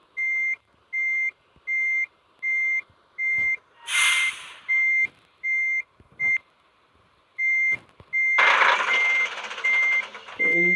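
Regular reversing beeps from a bus in a driving simulator game, a loud steady beep-beep rhythm about twice per second, briefly joined by bursts of hissing air-brake noise.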